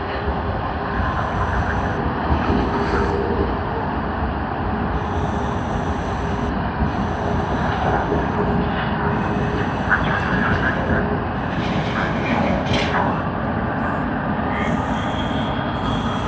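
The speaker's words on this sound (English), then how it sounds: "Emirates EK412 Dubai to Sydney service" An Emirates EK412 airliner arriving from Dubai lands at Sydney Airport, producing a loud, steady, broad roar that holds evenly for the whole stretch with no voices over it.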